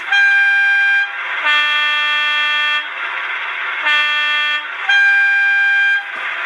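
A model train horn sounds in long two-tone blasts, four of them separated by short gaps, loud and close.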